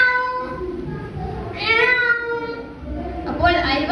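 A human voice imitates a cat meowing beside someone cleaning fish, giving two separate drawn-out, tonal meows about two seconds apart, close and clear.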